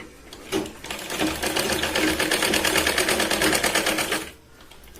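A sewing machine runs in one continuous burst of rapid, even stitching on the shoulder of a katori blouse, close and fairly loud for about four seconds before stopping, with no speech over it.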